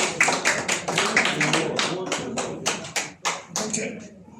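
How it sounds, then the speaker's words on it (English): A small audience at a talk on UK immigration gives a smattering of applause, a few distinct close hand claps in an uneven rhythm with speech-like sounds mixed in. "A round of applause."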